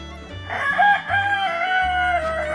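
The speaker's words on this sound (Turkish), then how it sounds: "İstanbullu geveze bir horozdur bu arkadaşlar" An Istanbul breed rooster crows nearby, one loud drawn-out call with a rising, wavering tone, over low background noise.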